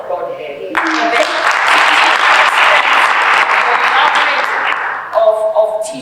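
An audience bursts into applause at a live technology demonstration event, a dense sustained wash of clapping starting abruptly and carrying for several seconds before tapering, with voices around it.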